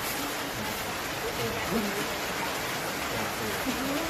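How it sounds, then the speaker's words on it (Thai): Heavy rain pours down in a steady, dense, broadband hiss that never lets up, with voices talking faintly beneath the downpour. "ฝนตกหนักแล้วนะครับ"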